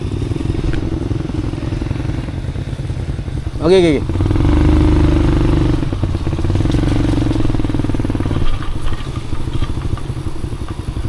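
An off-road motorcycle engine idles and revs on a muddy trail ride, a steady low rumble with a sharp rising rev near the start, while riders talk casually nearby.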